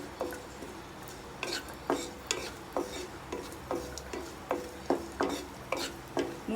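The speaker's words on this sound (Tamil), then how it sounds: "முந்திரி கலர் சேஞ்ச் ஆகிற வரைக்கும் ஃப்ரை பண்ணணும்." Cashews and raisins frying in a pan for carrot kesari, with a steady run of regular scraping stirs and clinks of a spoon against the pan over a low background sizzle.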